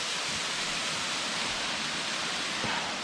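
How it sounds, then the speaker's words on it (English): Distant waterfall in the Azores, a steady broadband rush of falling water heard alone, even and moderately faint with no voices. "Already, you can already see the waterfalls."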